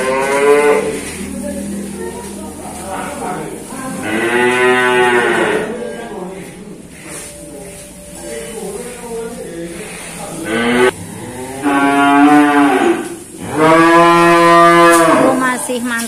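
Several cattle moo loudly and nearby at a cattle dealer's yard, long drawn-out calls repeating every few seconds, with faint background voices.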